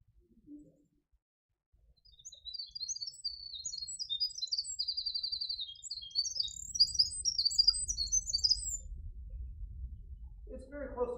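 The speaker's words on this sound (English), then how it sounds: "It's the song of the winter wren." A winter wren sings a long, rapid, high tumbling song of trills and twitters, clear and fairly faint, while low rumbling room noise rises underneath and a voice begins at the end.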